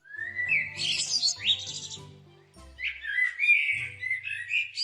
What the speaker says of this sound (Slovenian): Tam je okrog leskovega grma skakal črni kos.